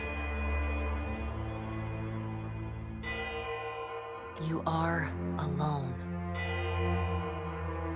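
A mass of bells from Pillars of Eternity 2 ringing together as a sustained, shimmering wash of overlapping tones, with a voice speaking briefly partway through.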